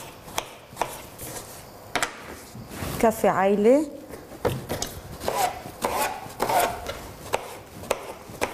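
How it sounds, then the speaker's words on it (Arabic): A knife chops eggplant on a board for a stew: a run of sharp taps and scraping strokes comes through while someone speaks over them. "هاي انتهينا من تقطيع الباذنجان."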